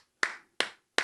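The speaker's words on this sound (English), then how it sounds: "He's clapping. Joe's clapping. Everybody's clapping here." Three sharp hand claps, close and evenly spaced, each cut off cleanly with silence between them.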